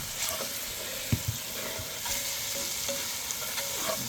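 Peppers frying in a hot pan while being stirred, giving a steady soft sizzle with a few light scraping knocks from a utensil, close and moderately quiet with no talking.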